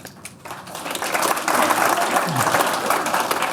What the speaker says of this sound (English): You can clap, that's how it works.